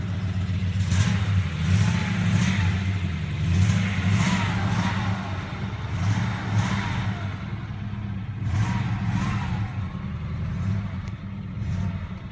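A 1971 Oldsmobile Cutlass S engine idles loudly up close and is revved several times, rising and falling in repeated surges over a steady low rumble, with no talking.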